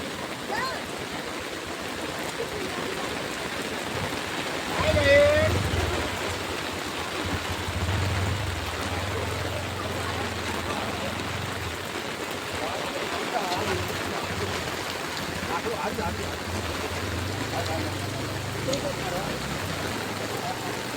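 A creek running full after heavy water flow, its steady rushing wash filling the scene from start to finish, with a brief louder thump near the start.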